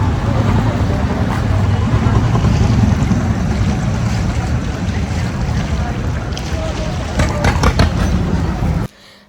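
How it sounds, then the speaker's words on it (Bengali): Engine of a large river passenger launch, a heavy broadband roar mixed with wind and water wash, loud and continuous for most of the clip before cutting off abruptly, with brief voices near the end. "বিশাল বড় একটা লঞ্চ এই যে দেখো"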